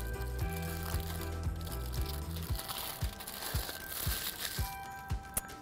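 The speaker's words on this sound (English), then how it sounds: "Now it's time to carefully take our ice pops out of their mold." Frozen ice pops are worked out of a flexible silicone mold, giving faint crinkling, squishing and cracking sounds with small pops and creaks as each one releases, set against a low steady background tone.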